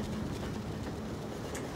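A train rumbles in the Doors fanmade rooms game, a faint, steady low rolling drone with a constant mechanical hum and no distinct beats.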